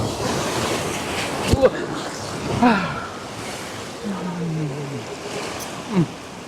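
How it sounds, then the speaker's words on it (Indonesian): Sea waves wash against the shore of a remote island, a steady, soft surf roar with gusts of wind buffeting the microphone and a few brief, faint voices. "Bahkan ombak ini ya."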